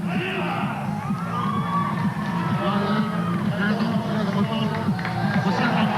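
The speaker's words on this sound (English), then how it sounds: "the crowd here really getting behind the Tongans" Spectators at a Pacific Cup rugby league match between Samoa and Tonga at Carlaw Park cheer and shout for the Tongan side, a steady, moderately distant wash of crowd noise with scattered whoops.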